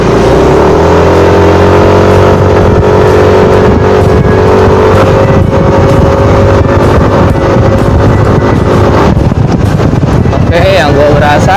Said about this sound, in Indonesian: Sekarang kita coba untuk trek lurusnya.